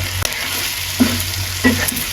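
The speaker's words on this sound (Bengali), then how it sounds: "এবার এগুলো আগে ভাজা ভাজা করে নেই, এবার সব মশলা মশলা দিলাম" Whole spices such as cumin, cinnamon and cardamom with salt frying in a pan in a village kitchen, a steady soft sizzle with a couple of brief scraping stirs, fairly close and without talk.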